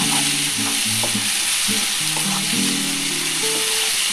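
Spices and paneer ingredients lightly frying in a pan for chili paneer, giving a loud, dense, continuous sizzling hiss with a steady melody playing underneath throughout.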